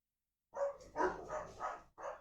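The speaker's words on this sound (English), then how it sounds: "the dog is fighting the other dog through the fence" Dogs barking and snarling at each other through a fence, a run of four or five close, loud barks after a moment of silence.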